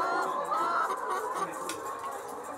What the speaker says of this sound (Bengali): মুরগিগুলো সুবিন্যস্ত সারিতে বিশ্বস্ত ভাবে আছে